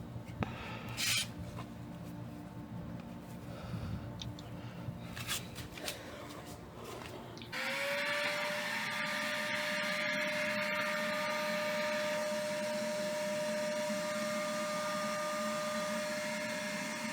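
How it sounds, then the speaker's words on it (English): A vacuum cleaner draws old brake fluid out through a quarter-inch soft hose at a car's brake with the wheel removed, starting partway through as a loud, steady whine and roar that continues to the end over earlier clattering handling sounds. "Now the vacuum cleaner is started. The old fluid is now being pulled"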